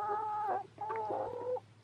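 Chickens cluck in two short bursts of vocal calls, close and fairly loud, over a steady low background hum.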